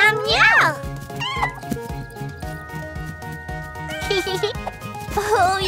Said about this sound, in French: Miaou, miaou, miaou!